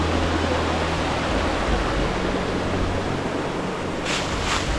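Water rushing down one of the tiers of a seven-step waterfall, a loud, unbroken roar of falling water filling the space close by, with a couple of brief sharper hisses near the end.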